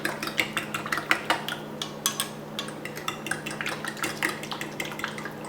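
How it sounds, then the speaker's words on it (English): A fork rapidly clinks and scrapes against a bowl, mixing and dissolving ingredients for Filipino pancit bihon, in a steady flurry of close, bright metallic taps over a low kitchen hum. "So just take a fork, mix it, dissolve it."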